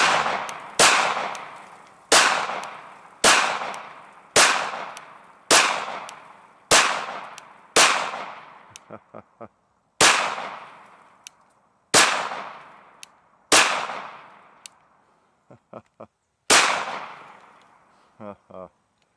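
Repeated Glock pistol shots fired at cans outdoors, about a dozen sharp loud reports spaced roughly a second apart with ringing decay, a few faint metallic clinks between them.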